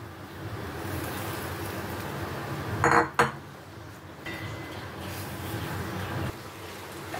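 A lid is set down over fish frying on a flat tawa on a lowered gas flame, giving a short metallic clank and rattle midway over a steady soft sizzle.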